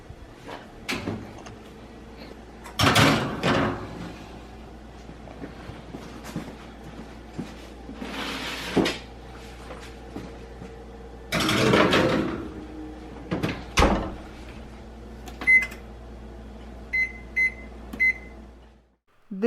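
Kitchen oven door handling while baking trays of polvorón cookies go into a 350-degree oven: several loud clunks and metallic scrapes of trays sliding onto racks, a door thud, then a few short beeps, no talk.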